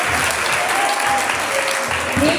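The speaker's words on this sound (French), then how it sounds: "Applaudissez s'il vous plaît." An audience at a kindergarten end-of-year party claps steadily, a dense, loud and continuous wash of applause, with faint voices mixed in underneath.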